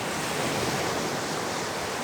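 Sea waves wash around a fishing boat out at sea, a steady, faint broadband rush of surf and water with some wind, no voices.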